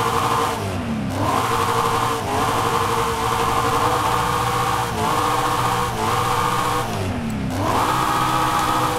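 A tuned car engine in Forza Horizon 5 revs hard and continuously, pitch climbing through repeated gear shifts with brief dips between, loud and close with no talk.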